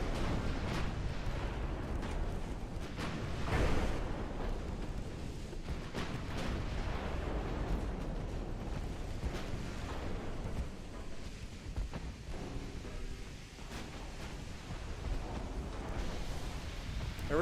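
Torpedo detonation in a naval warship battle game, a deep rumbling boom swelling around the middle, set within a continuous roar of low explosive and gunfire-like noise.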